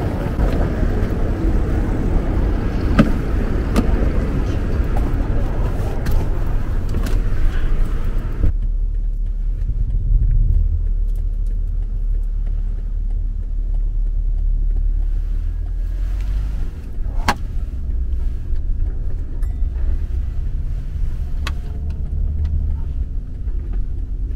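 A car on the road, heard from inside as a steady low engine and road rumble with some wind noise, loud at first and then settling into a quieter, even drone, with no talking.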